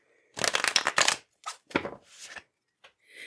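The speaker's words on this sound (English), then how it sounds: "So let me shuffle my deck here for you." A deck of tarot cards is riffled and shuffled by hand in several loud, close bursts of rapid flapping, separated by short pauses, with no voices heard.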